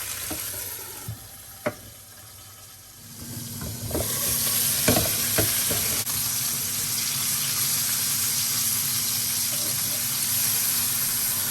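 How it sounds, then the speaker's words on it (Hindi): Chicken pieces frying in ghee in a pan on low heat, a few faint clicks and handling sounds, then a steady close sizzle that swells up and holds evenly. "पैन में हम ये चिकन रख देंगे और इसको तकरीबन कोई 8 मिनट के लिए दोनों साइड पे हम लो हीट पे इसको पैन में पकाएंगे"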